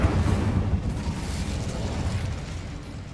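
Fire spell Incendio erupts in the Hogwarts Legacy video game, a steady rumbling, crackling burst of flame that stays loud and dense throughout, heard alone without talk.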